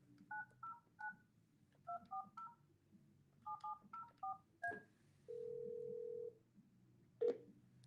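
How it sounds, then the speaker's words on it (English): Telephone keypad tones dial a number in quick clusters of short beeps, then a steady ringback tone holds for about a second, followed by a sharp click, all fairly faint in a quiet room. "I'm going to call you"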